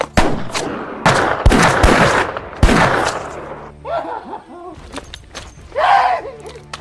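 Several sharp, loud gunshots crack in quick succession during a western film shootout, close and forceful, followed by brief voices and snickering sounds.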